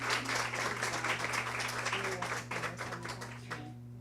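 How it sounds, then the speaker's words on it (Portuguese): An audience at a women's real-estate business event claps steadily to welcome a speaker, a dense patter of hands at moderate distance with a low electrical hum beneath, fading out near the end. "Uma salva de palmas."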